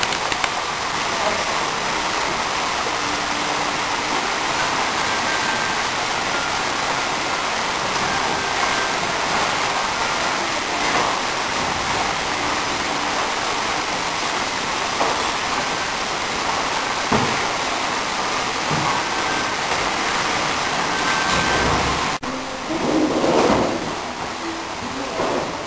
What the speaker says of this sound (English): with the waterfall.